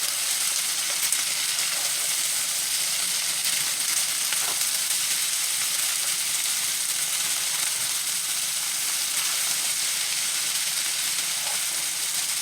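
Onion sizzles steadily in a pan while being stirred for a hashbrown casserole, a continuous close frying hiss with faint scrape accents, no talking.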